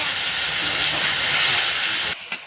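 Water poured onto hot spice paste in a pan over a coal fire hisses in a loud, steady burst. The hiss cuts off abruptly near the end.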